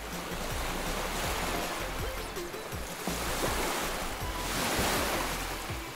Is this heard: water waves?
yes